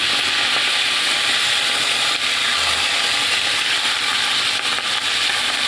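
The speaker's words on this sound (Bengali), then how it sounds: "এদিকে গোছাতে গোছাতে মাছের এক পিঠ ভাজা হয়ে গেছে উল্টো দেবো" Katla fish frying in oil gives a loud, dense, continuous hiss of sizzling that holds steady and close throughout.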